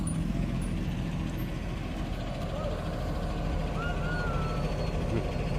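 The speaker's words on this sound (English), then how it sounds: "There's the school bus." A school bus pulls up on a snowy mountain homestead road, its engine a steady low rumble at moderate distance, joined by faint higher tonal sounds midway, continuous throughout.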